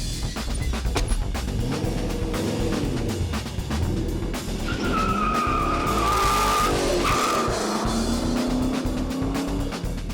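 A Chevy C1500 race truck with a stroked LS engine accelerates hard on a track, its engine roaring loud and continuous with rising and falling revs as gears change, tires squealing partway through.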